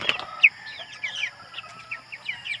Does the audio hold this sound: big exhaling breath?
no